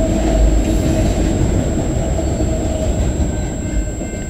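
CN freight train rolling past close by, a loud steady rumble of wheels and cars on the rails with a faint squeal, continuous throughout and without voices.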